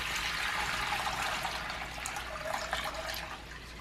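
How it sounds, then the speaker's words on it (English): A gallon of water pours into a container in a steady, hissing, splashing stream that stays even and moderately close, with no talk over it. "And then I'm going to put my 1 gallon of water."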